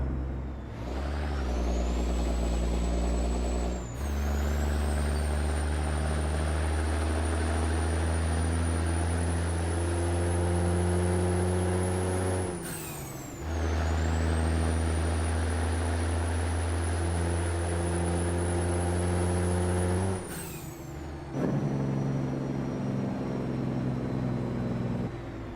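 Peterbilt truck engine in American Truck Simulator, a loud steady diesel drone with rising whine through each gear, cut by brief gaps at shifts and repeating in long pulls, with no talking.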